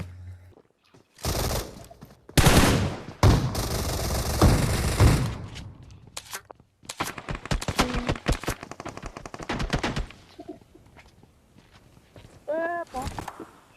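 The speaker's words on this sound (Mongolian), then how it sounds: "Наач удаа араас нь хүн буудсан." Video game gunfire cracks out in loud, rapid bursts, with dense automatic volleys early on, then sharp single and clustered shots after a pause, ending with a few scattered reports.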